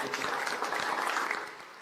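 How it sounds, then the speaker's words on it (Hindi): An audience applauds the Shaurya Dal girls' group at a National Girl Child Day campaign launch, a steady wash of clapping that fades slightly toward the end. "तालियां बजाइए शौर्या दल के"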